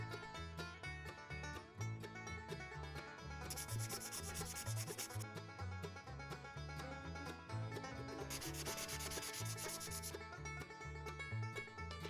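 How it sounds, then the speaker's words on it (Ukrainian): Felt-tip marker scrubbing on paper while a letter is coloured in, a close, quiet, rhythmic back-and-forth rubbing made up of quick repeated strokes. "Перший візьмемо коричневий фломастер і зафарбуємо ось цю паличку."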